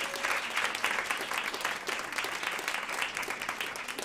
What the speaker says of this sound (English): please, round of applause.